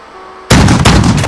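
Gunfire in the Modern Warfare video game sets off abruptly after a quiet moment, giving a loud, close burst of rapid shots that carries on to the end.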